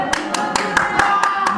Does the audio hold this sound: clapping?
yes